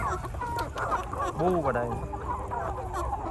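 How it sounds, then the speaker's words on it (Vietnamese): Chickens clucking at close range on a farm during an evening catch, a hen's rising squawk in the middle over steady rustling, with someone speaking briefly. "tranh thủ đi bắt mấy con gà sai về để cho người ta làm đám ngày mai chủ nhật"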